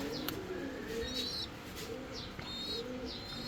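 Fancy-breed pigeons cooing in soft repeated calls close by, mixed with faint chirps from other birds over a steady background hum, with no talking.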